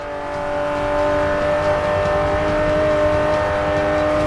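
A Ferrari 512TR engine in the Forza 5 driving game holds a loud, steady roar at high revs, with a constant tonal whine and no talking over it.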